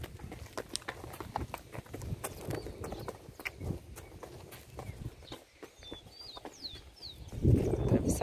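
Horse hooves clip-clop at a steady walking pace nearby, with birds chirping faintly in the background and a louder rustle near the end.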